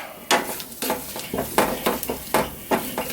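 Sausage rendering in a pan for gravy, heard as rhythmic scraping and stirring strokes over a soft sizzle, close and moderately loud, no voices.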